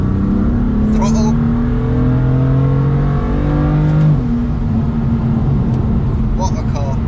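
A modified BMW M4's engine drones loudly from inside the cabin as it pulls, then drops a gear around the midpoint and climbs again under throttle, with brief voice sounds over the engine.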